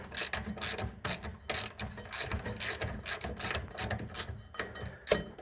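A ratchet removes a bolt on a Toro Timecutter zero-turn mower, with rapid, close clicking strokes repeating in an uneven rhythm throughout.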